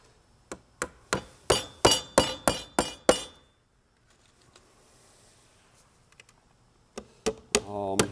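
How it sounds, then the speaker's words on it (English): A hammer drives nails into metal drywall corner bead, a quick series of about eight sharp ringing strikes close by, then a quiet stretch and three more blows. "I'm gonna nail that."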